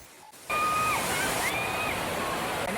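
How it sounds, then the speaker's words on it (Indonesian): Curug Tinggi waterfall in Tabak Remanik village, Selangit, Musirawas, set among coffee gardens and clear streams, roaring as a steady broadband rush that swells in after a quiet moment, with faint whistle-like tones above it. "Ini air terjun Curug Tinggi Desa Tabak Remanik, Kecamatan Selangit, Kabupaten Musirawas."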